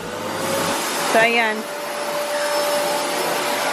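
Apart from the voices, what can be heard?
vacuum cleaner running during house cleaning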